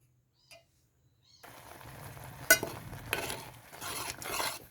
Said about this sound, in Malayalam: ഇനി ഇതിനെ നല്ലതുപോലെ ഇളക്കുക